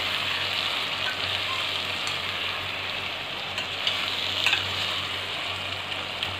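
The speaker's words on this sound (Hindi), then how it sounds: "मैं आलू और मसाले को एक साथ चला रही हूँ" Potatoes and spice masala fry in a pan while being stirred together for dum aloo, giving a steady, close sizzle throughout with a few faint scrapes of the spoon and no talking.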